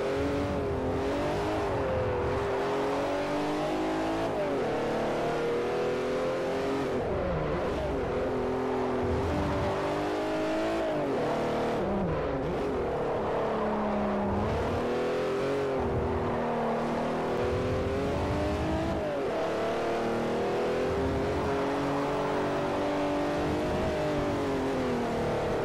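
A race car engine in Forza Motorsport 4 revs hard and continuously, its pitch rising and falling through gear changes with occasional tire squeal, loud and close throughout.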